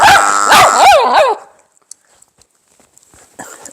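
Dog at a park barking and yelping frantically at a duck call, several loud close barks in a quick burst that stop abruptly, followed by near silence with faint clicks.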